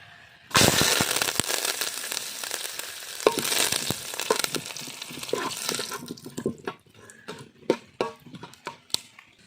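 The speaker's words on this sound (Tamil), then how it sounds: "இப்போ எண்ணெய் சூடாகிட்டு இதில் வந்து நாங்கள் பட்டை கிராம்பு எல்லாம் சேர்க்க போகிறோம்" Cinnamon, cloves and dried chillies hit hot oil for village-style beef kari dosai, setting off a sudden loud sizzle that gradually fades into scattered crackles and light clicks.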